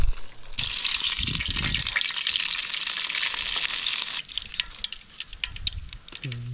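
An egg frying in bacon grease in a pan gives a loud, steady crackling sizzle that starts abruptly, holds for several seconds, then drops to a quieter, sporadic spatter.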